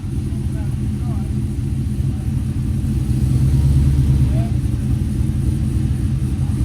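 A supercharged LS V8 engine idles steadily in a Nissan Patrol, a continuous low, even rumble held close and loud for the whole stretch, swelling slightly midway, with no voices over it.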